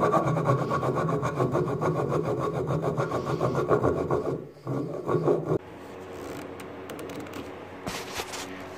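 A file rasps back and forth across the sides of a metal lead screw for a book press, steady rhythmic strokes close up for most of the stretch, then a brief pause and quieter handling noise.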